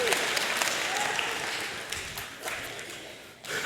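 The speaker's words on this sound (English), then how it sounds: "Give yourself a round of applause" A church congregation applauds itself after a service, a full, steady crowd clapping that runs throughout with no voices standing out.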